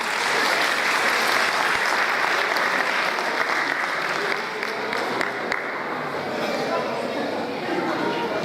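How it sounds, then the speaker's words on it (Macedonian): Sustained audience applause greets a guest child singer at an international children's song festival in Kočani, steady dense clapping filling the hall throughout with faint crowd murmur beneath. "Аплауз за нашата гостинка."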